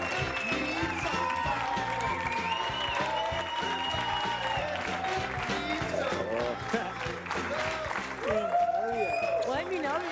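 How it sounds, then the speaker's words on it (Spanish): A television studio audience claps and cheers to welcome guest David Castillo, lively applause heard under music and voices. "Fuerte aplauso para David Castillo."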